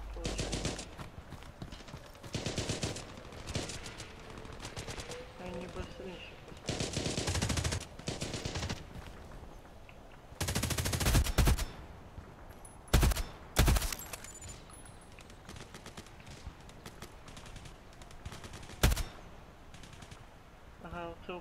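Kalashnikov rifle fire in a video game, with repeated bursts of automatic gunfire and a few sharp single shots spread across the stretch, loud and close over game background noise.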